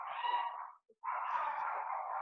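A domestic cat meows twice nearby, two drawn-out calls split by a short pause, heard alone and indoors.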